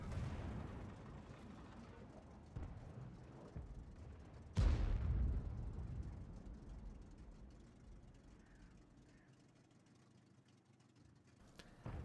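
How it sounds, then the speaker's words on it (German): Artillery fire in the World of Tanks game, a single loud heavy boom about midway with a decaying rumble, set against a steady low engine drone and scattered fainter thuds. "Währenddessen teilen wir hier munter weiter aus mit unserer Artillerie."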